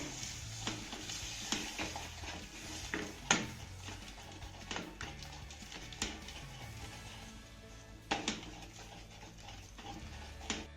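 Yogurt is stirred into a spice masala in a pan, giving quiet scraping and occasional sharp spoon taps against the metal over a soft sizzle, with no talking.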